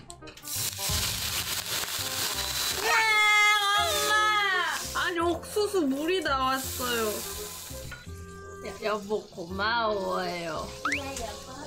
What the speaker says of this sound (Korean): 달궈진 팬에 버터를 한 스푼 녹인다.